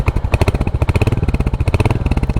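Close, loud single-cylinder idle of a 2023 Royal Enfield Hunter 350 motorcycle, a steady rapid thumping exhaust pulse with a deep, poppy character and no talking.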